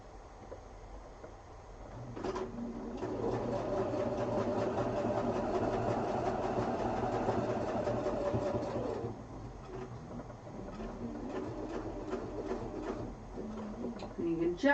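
A sewing machine runs steadily while topstitching a quilted duffel bag a quarter inch from earlier stitching, a continuous close mechanical whirr for several seconds, then shorter stop-start bursts near the end.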